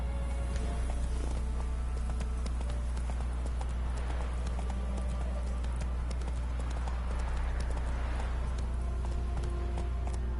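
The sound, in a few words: horse galloping in The Witcher 3 video game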